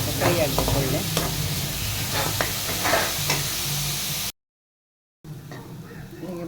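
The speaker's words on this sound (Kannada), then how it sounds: "ಈರುಳ್ಳಿ ಸ್ವಲ್ಪ ಬ್ರೌನ್ ಕಲರ್ ಆಗಬೇಕು, ಸ್ವಲ್ಪ ಫ್ರೈ ಆಗಬೇಕು ಒಳ್ಳೆ" Onions fry in a pan with steady crackling sizzle and occasional stirring scrapes, interrupted by a brief silence, while a voice speaks over the cooking.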